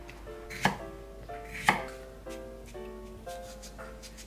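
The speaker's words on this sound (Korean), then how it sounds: "드시기 좋게 오이를 이렇게 3등분이나 4등분 이렇게 하셔갖고" A knife chops cucumbers into pieces on a cutting board for Korean oisobagi, producing two sharp, distinct cutting knocks with quieter board taps in a calm kitchen setting.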